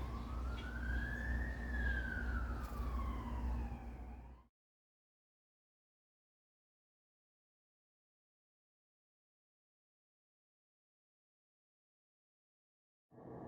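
A rising and falling siren wail from an emergency vehicle over engine rumble, fairly close and loud for about four seconds, then abrupt silence until a brief burst of sound at the very end.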